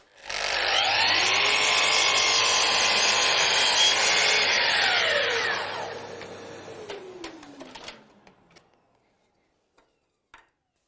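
A Festool Kapex KS 120 radial miter saw cuts through a wooden baseboard, with a loud steady whine for several seconds, then the motor winds down as the blade coasts to a stop, followed by a few faint clicks.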